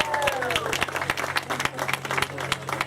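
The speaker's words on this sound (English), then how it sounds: "let's give her a big round of applause" An audience claps for a performer at a Heart of Africa stage show, a busy patter of many hands at moderate distance with crowd murmur mixed in.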